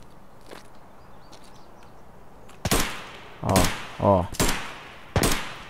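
Gunfire from the Escape From Tarkov game: four or five sharp, loud broadband bursts crack out over about three seconds after a quiet stretch, with short voiced sounds mixed between the shots.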